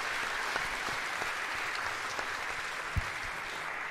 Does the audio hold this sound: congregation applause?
yes